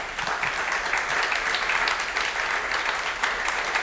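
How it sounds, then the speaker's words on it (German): A seated audience at a live talk-show event applauds steadily and evenly for several seconds, a dense, sustained wash of clapping close by. "Klatsche nochmal weiter."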